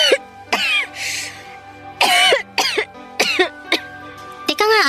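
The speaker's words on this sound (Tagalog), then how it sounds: "napapansin ko parang ilang araw na yung ubo mo ah" A woman coughs repeatedly in loud, harsh bursts, several separate fits spread across a few seconds with throat-clearing between them, close up, with brief voiced sounds mixed in.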